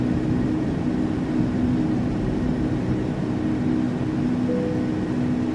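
Steady, loud engine and airframe roar inside a simulated L-1011 TriStar just after takeoff in FSX, a constant hum as the landing gear retracts, with no distinct clunk standing out and no talking.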